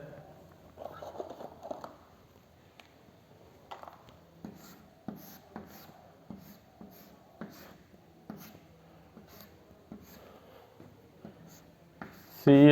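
Chalk scratching out a chemistry example on a classroom board, faint irregular taps and short scrapes spread through the clip, with soft speech-like sounds in the room and a louder bump at the end.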